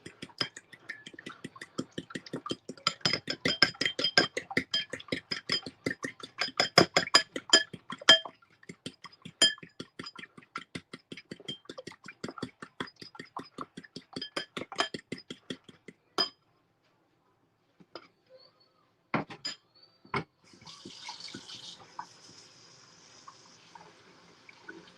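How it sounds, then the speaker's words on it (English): Squash being rinsed off a fork at a kitchen sink, with rapid clinks and clatters of metal against dishes and running water, busy for about fifteen seconds, then scattered knocks and a brief splash. "Wash the squash off the fork."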